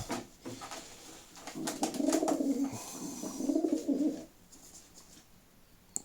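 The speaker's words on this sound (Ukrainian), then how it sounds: "чорнявий голуб." Sport racing pigeons, including a black pigeon, coo softly in two rolling phrases against a faint background hiss, with some light rustling and tapping nearby.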